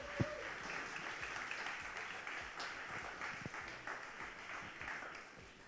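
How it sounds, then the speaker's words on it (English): At a fashion show, an audience claps for the students, a dense wash of applause heard from a distance at low level, with a sharp ping near the start. "Can we have a round of applause for them students,"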